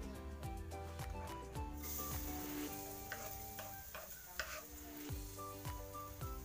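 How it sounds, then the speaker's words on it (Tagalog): Garlic frying in cooking oil in a pan, a steady close sizzle running throughout under rhythmic scraping stirs and soft knocks of a utensil. "Dapat ilagay mo na kaagad yung bawang sa mantika hanggat di pa masyado mainit para"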